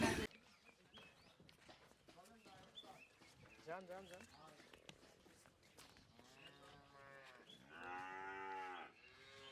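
A Holstein Friesian dairy cow lets out several loud, drawn-out moos at a cattle market, the last long and strong, while people talk nearby and footsteps shuffle.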